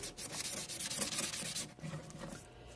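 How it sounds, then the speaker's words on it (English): Sandpaper rubbed by hand across the face of a metal cuff makes a steady, close scratchy rasp in repeated strokes, with no voices over it. "you can also go in with some sandpaper by hand. And you want to sand all in one direction."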